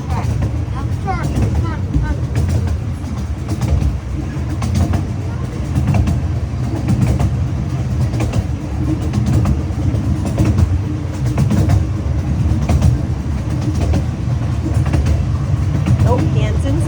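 A zoo train rolls steadily along its tracks with a constant low rumble and rattling, and people talk faintly throughout.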